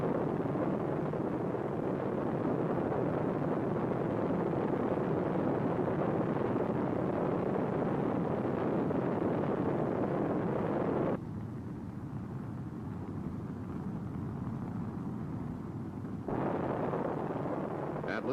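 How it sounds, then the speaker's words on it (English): An Atlas launch vehicle's engines ignite at liftoff, a loud continuous rumbling roar that holds steady, drops for a few seconds, then swells again, with faint speech underneath. "the Atlas launch vehicle ignites"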